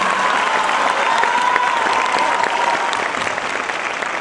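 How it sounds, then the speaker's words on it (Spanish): An audience at a Mexican singer's performance claps steadily and loudly, a dense continuous wash of applause that holds evenly throughout, with a faint voice briefly audible in the crowd. "Un aplauso fuerte del maestro Barrio."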